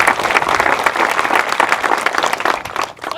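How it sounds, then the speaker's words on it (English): A brief round of applause from the audience at a humane society ribbon-cutting ceremony: dense, lively clapping that tapers off in the last moment. "I also want to just give a brief round of applause for Cindy and her tremendous efforts to lead"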